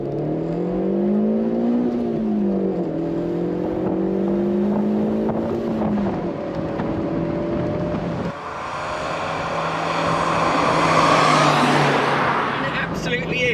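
A Fiat Barchetta's 1.8-litre variable valve engine climbs steadily through the revs, a rising whine that drops at a gear change and then builds again. Cabin talk continues over the engine throughout.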